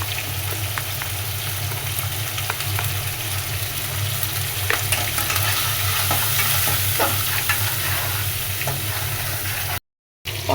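Pointed gourd and potato pieces fry with turmeric, chili powder and salt. A loud, dense, steady sizzle is heard up close with occasional soft stirring clicks over a low hum, and it drops out briefly near the end. There is no talking.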